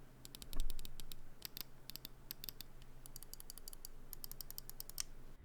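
G-Wolves HTX 4K gaming mouse with Zippy switches being clicked repeatedly, crisp sharp taps in quick irregular bursts and short runs, close-up and isolated over a faint low hum.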